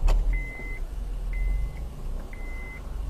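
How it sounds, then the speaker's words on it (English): A car engine starts and runs with a low, steady rumble, while three evenly spaced electronic dashboard beeps sound over it. "I'll go ahead and start the car"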